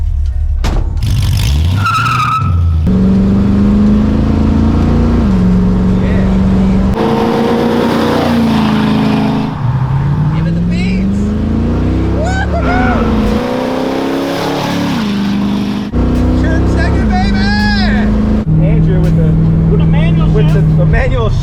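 1969 Ford Mustang Mach 1 with long tube headers and a 3-speed manual, driving and accelerating through repeated gear-by-gear surges, loud throughout, heard from inside the car with people talking over the engine.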